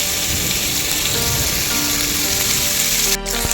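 Pork frying in its own fat in a kadai with no added oil, a dense, steady, loud sizzle that fills the whole stretch with no talk over it.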